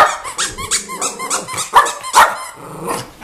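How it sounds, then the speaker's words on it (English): A dog growls and grumbles in short bursts up close, the low rumbling mixed with yips and whimpers as she guards a squeaky toy. "You hear her growl."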